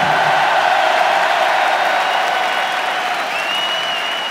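Sustained loud clapping from a large concert audience fills the room, applauding a symphony orchestra, holding steady with a faint cheer or whistle.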